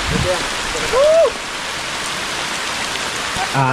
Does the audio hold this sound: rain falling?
yes